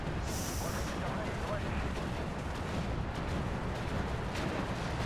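Bombs dropped by an He-111 detonate in Steel Division 2, a sharp blast followed by rumbling explosions and gunfire across a noisy battlefield, with people talking over it.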